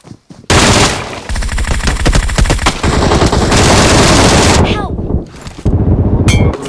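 Loud, close video-game gunfire rattles in long automatic bursts with sharp clanging impacts, and excited voices shout and laugh over the shooting.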